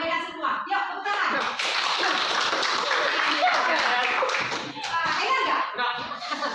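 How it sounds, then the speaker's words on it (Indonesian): A classroom of children claps hands together, a busy, close patter of many small claps mixed with lively chatter and kids' voices throughout. "Yuk, tepuk tangan."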